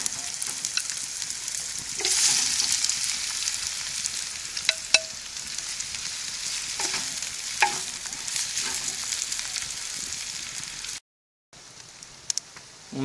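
Shrimp frying in a pan with garlic and onion, a steady close sizzle and crackle with occasional stirring scrapes and clinks, a brief dropout near the end.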